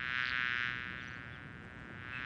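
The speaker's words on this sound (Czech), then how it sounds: "Zní to jako bzučení." A steady, faint insect-like buzz in a Czech-dubbed cartoon about flowers, a thin droning hum that swells slightly at the start and end and carries no voices.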